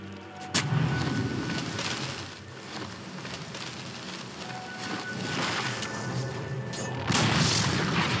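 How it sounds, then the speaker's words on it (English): A tower collapses in a Dota 2 match: heavy booming crashes and crumbling debris burst out over a dense wash of battle noise, with a second loud impact near the end. "Dire's bottom tower has fallen."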